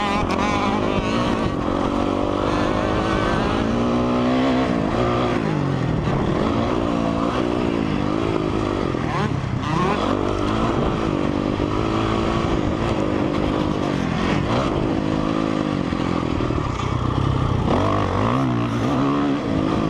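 A 2004 Honda CRF 450 dirt bike's engine roars continuously while riding, loud and close, rising and falling with throttle through revving surges.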